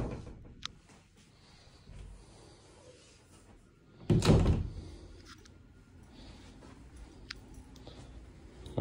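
Double closet doors in a modular beach house open and close, giving soft rattles and a distinct thunk as they shut midway, then quieter handling noises afterward.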